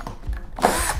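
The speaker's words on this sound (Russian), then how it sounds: "Сверло по дереву 13 мм. Попробуем, что из себя сейчас" A Crown 12V cordless drill driver bores into wood with a 13 mm wood bit. A short burst of motor whine rises suddenly after a moment of softer handling noise, loud and close.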